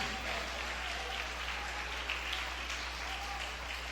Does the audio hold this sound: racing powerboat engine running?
no